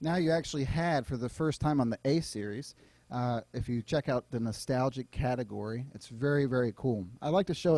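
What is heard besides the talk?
None of the usual background noises is heard.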